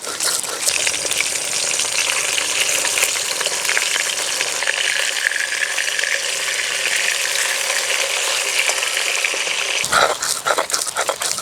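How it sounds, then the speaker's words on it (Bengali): Pieces of rohu fish fry in hot oil, a loud continuous close-up sizzle and crackle that holds steady throughout, broken near the end by a brief knock of a utensil. "বাকি মাছগুলো এভাবে ভেজে নেব"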